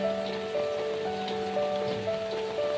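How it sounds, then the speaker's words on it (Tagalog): Heavy rain falls steadily in an outdoor spot near the sea, a dense continuous wash of drops on surfaces, loud and close with a faint steady tone running underneath and no talking. "Lakas ang ulan po ba naman."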